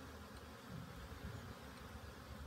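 A dense, continuous hum of many honey bees buzzing together around a hive in an apiary, steady and fairly faint, with no voices.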